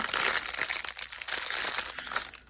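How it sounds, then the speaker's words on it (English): Papers crinkle and crunch steadily as they are pulled out during canvas prep, with close, continuous rustling and no talking. "there's going to be crinkling. There's just gonna be crinkling, okay, because I need to get the papers out"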